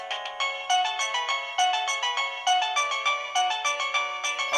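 A Chinese wireless doorbell plays a quick, bright electronic melody chime, a steady run of short tinkling notes in a regular rhythm at moderate volume, with no voices.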